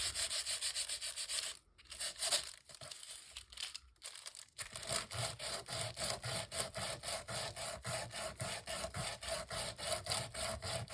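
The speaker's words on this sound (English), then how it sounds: "you're just going to sand till you get kind of a smooth surface" Wood being sanded by hand toward a smooth surface, a close, loud back-and-forth rasp in a steady rhythm after a few brief pauses, with no voices.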